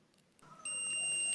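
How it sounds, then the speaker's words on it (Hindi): A multimeter's continuity buzzer sounds a steady high-pitched tone on a motorbike wire, starting sharply partway through after faint handling noise and holding to the end. "अभी आवाज़ सुन पाइएगा बजर का"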